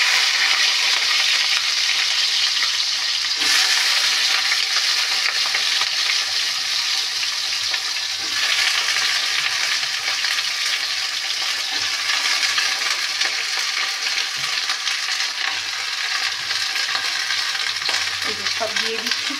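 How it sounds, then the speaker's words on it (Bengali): Stem pieces, green banana and bitter gourd fry in a wok, a loud, dense sizzle heard up close, broken by occasional clinks and stirring scrapes. "এবার আমি এখানে যে ডাঁটা, কাঁচকলা আর উচ্ছেগুলো কেটেছিলাম একটা ভেজে নেবো হালকা।"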